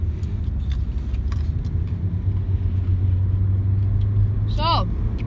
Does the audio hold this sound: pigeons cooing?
no